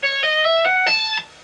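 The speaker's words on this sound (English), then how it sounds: "and then hammering on." A short run of bright guitar hammer-ons rising step by step in a smooth legato line, about five quick notes, then cutting off.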